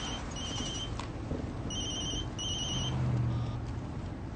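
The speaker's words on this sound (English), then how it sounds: "hold on a second, my other cell phone" A cell phone rings with repeated high electronic tone bursts in a steady pattern, clear and fairly close over a constant low background rumble, with no talking.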